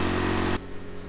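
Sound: generator engine running

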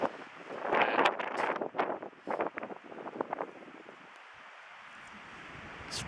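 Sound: wind in snowy conditions at Mills Lake

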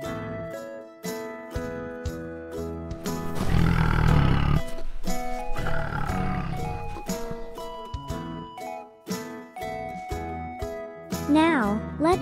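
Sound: tiger roaring

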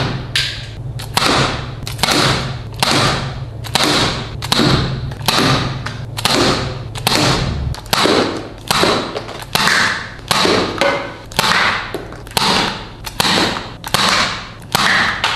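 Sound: toy double-barrel revolver firing foam darts and water together

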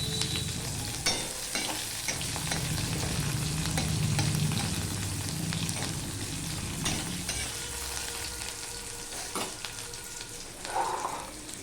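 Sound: onion and garlic frying in a pan

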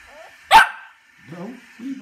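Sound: dog barking

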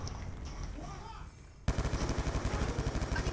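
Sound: sniper gunshot in the video game Black Ops 2

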